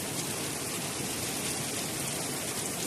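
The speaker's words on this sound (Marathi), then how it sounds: "इतका सुंदर असा पाऊस येतोय." Steady rain pours from a heavy, overcast sky in a rural setting, an even hiss of drops with no break and no voices.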